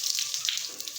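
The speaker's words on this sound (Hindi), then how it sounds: "पानी कुछ ना कुछ आ रहा है। ठीक है, लेकिन है बहुत कम है।" Water trickles weakly from a tap, a thin hissing splash with faint irregular drips, close and continuous over a short stretch.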